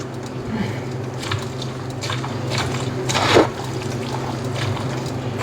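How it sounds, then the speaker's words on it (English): Food being stirred in a pot in a home kitchen at Thanksgiving, with soft wet squishing and scraping strokes that repeat steadily. One louder scrape stands out near the middle, and a low hum from the room runs underneath. "I'm gonna go ahead and stir this up"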